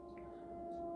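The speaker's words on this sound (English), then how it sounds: "you may hear the siren in the background" A steady, wavering siren tone drones in the distance, faint and continuous beneath a low background rumble.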